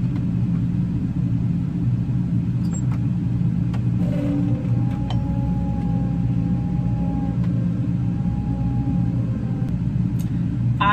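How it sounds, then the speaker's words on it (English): A combine harvester's engine drones steadily while the machine is driven, a dense low rumble filling the whole stretch with faint whines and creaks riding above it. "I really enjoy driving the harvester."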